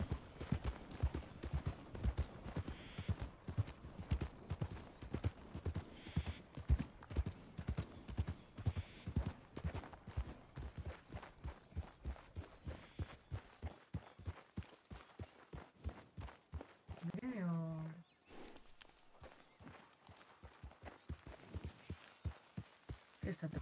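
A mare in the video game El Rancho RP walks with a steady, even clip-clop of hooves that slows and thins partway through, broken by a brief whinny while people talk at times.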